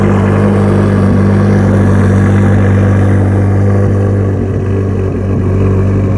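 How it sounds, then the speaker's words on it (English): Loud, deep rumbling Fabspeed aftermarket exhaust of a Corvette C8 Z06 idling close by, a steady throbbing drone that holds continuously with no talk. "That is the Fab Speed exhaust"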